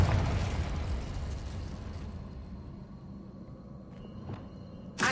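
A Confringo spell blast in Hogwarts Legacy: a loud, broad fiery explosion rumble that slowly decays over several seconds, with a couple of faint sharp cracks and a fresh burst at the very end.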